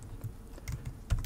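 A short burst of soft, uneven clicking from a computer keyboard as a dpkg install command is typed, quiet and close, with no voice.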